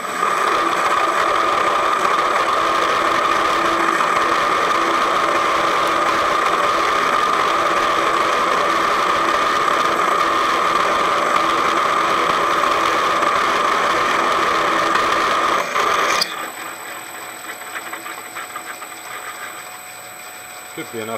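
South Bend lathe turning a trailer brake drum, a steady close mechanical whir and hum that runs evenly, then drops abruptly to a quieter hum near the end.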